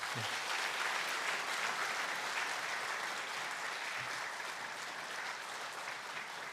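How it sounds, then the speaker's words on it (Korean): A church congregation claps together in encouragement during a Sunday service, a steady, even wash of many hands that carries on without letting up. "우리 축하하는 마음으로 또 더 영혼 사랑하는 마음으로 애써 주세요라는 마음으로 우리 격려의 박수 드리겠습니다."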